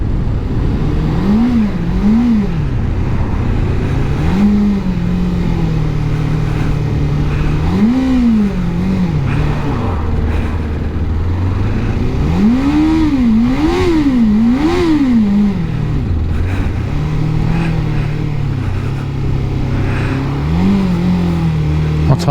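A Suzuki GSXF600 motorcycle engine runs roughly and splutters while riding, its pitch rising and falling in uneven surges and dips, loud and close, continuous throughout.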